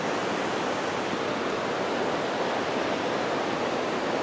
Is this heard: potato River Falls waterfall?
yes